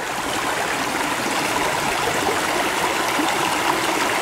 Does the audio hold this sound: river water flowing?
yes